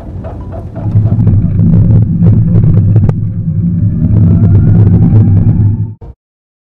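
An electric-converted 1967 Austin Mini Moke drives along with a loud, steady low rumble of road and wind noise, a thin motor whine climbing in pitch as it accelerates, and no exhaust note, ending abruptly.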